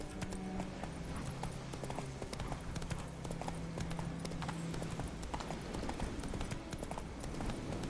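Roach, the horse in The Witcher video game, gallops with rapid, steady clip-clop hoofbeats that hold up close and even throughout.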